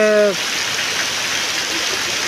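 Heavy rain pours down in Thadgam, Kavant, a dense steady hiss close by, with a brief voice at the very start and no thunder evident.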